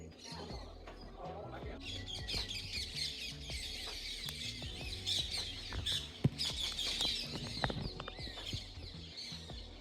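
Parrots keep up a stream of squawks and chirps around a Hindu temple in Tamil Nadu, with many birds calling at once at middle distance over outdoor ambience and brief voices.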